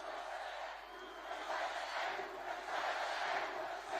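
Crowd at a Donald Trump presidential campaign rally in Nevada roars and cheers continuously, a dense, sustained wash of voices filling the hall.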